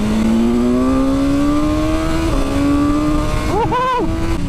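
A 2021 BMW S1000R motorcycle accelerating hard in second gear, its engine note climbing steadily and loud at close range, then a brief dip and another rising rev near the end, with no talking.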